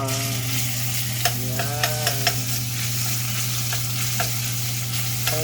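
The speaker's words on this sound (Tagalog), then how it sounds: "Medyo mainit na yung mantika. Lagay ko na yung ating bawang." Finely minced garlic fries in hot oil with a steady crackling sizzle and light stirring clicks, a low hum underneath and a single word spoken briefly.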